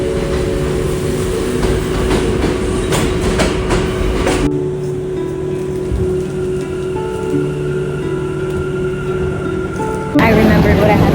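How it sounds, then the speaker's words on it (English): A New York City train arriving at a station during the Gov Ball festival, a loud, steady rumble and metallic rail noise throughout, with a shift in tone partway through and a brighter burst near the end. "My train is here anyway, so I'll come back."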